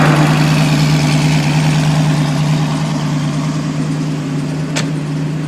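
An SSC supercar idles with a deep, steady rumble close by at an auto show lounge, a single short sharp click partway through.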